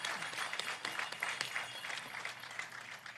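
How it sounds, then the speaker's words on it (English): Applause from the audience at an Ottawa commemorative ceremony for National Indigenous Peoples Day, dense steady clapping throughout, moderately loud with a faint voice underneath. "Let's give her a nice round of applause."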